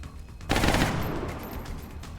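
A loud burst of automatic gunfire in the turn-based strategy game XCOM: Enemy Unknown, opening abruptly after a quiet moment and trailing off into a lingering rumble, with no talking.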